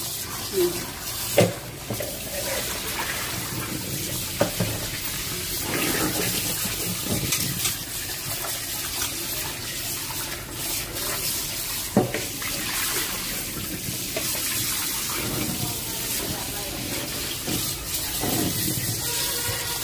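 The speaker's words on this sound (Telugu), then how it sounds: "శుభ్రంగా 4 సార్లు వాష్ చేసుకోవాలి. ఆ నీసు వాసన అంతా పోయేలాగా వాష్ చేసుకోవాలి." Raw Bocha fish pieces are washed by hand in water in an Andhra village kitchen, a continuous running, splashing wash with occasional clunks of a vessel, close and steady throughout.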